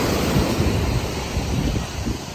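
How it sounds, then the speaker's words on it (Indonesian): Strong ocean waves surge and break on a beach, a continuous loud roar of surf mixed with gusty wind buffeting the microphone, no voices. "ombaknya kenceng"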